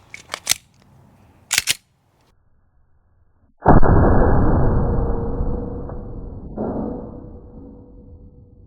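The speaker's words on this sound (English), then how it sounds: "Let's shoot some steel, man." A few sharp handling clicks, then a moment of silence, then two loud pistol shots from a gun fitted with a red dot sight, fired at steel targets, each blast followed by a ringing metallic decay.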